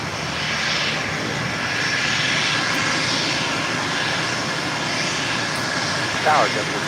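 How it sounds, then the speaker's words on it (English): A Global Express business jet on approach into LAX roars steadily at a distance, the engine noise broad and sustained. Radio and tower voices speak over it. "This Global Express is coming in from Van Nuys."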